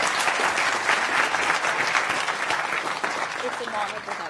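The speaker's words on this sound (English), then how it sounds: "with a huge round of applause." An audience at an India Today Media Institute address breaks into loud, steady applause to welcome the speaker, with the clapping thinning slightly toward the end.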